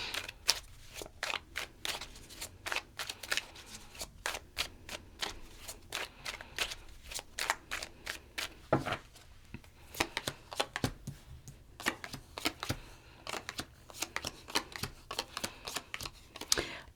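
Tarot cards are shuffled for a reading with steady, crisp riffling and flicking close up. The card sounds come in dense clicking runs across the whole stretch, with no talking.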